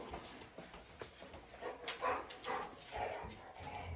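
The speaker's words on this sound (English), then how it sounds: "Wife just got home, dog's going nuts" A house dog barking excitedly as someone arrives home, a quiet, somewhat distant run of irregular barks and yips with rustling noise around them.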